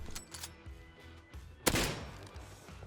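Gunfire in the survival game Rust during a fight with a clan, with a few short shots early on and one louder, sharper blast partway through, set against steady background game ambience.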